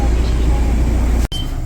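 Number 143 city bus in Seoul idling nearby, a steady low engine rumble and road noise that drops out abruptly for a moment near the end.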